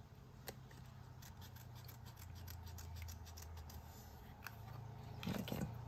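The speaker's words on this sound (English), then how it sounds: "just to cut out, especially if your card isn't wet" Scissors cutting out a flower shape from card, a steady run of faint, close snips and crisp clicks, quiet and uninterrupted, with a soft rustle of handling near the end.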